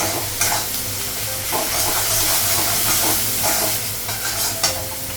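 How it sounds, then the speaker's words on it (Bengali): Spices with salt and cumin powder fry and sizzle in a pan with steady hissing, broken by scraping stir strokes that come and go up close throughout. "লবণ দিই, জিরে গুঁড়ো দিই। মশলাগুলো একটু ভেজে নেব।"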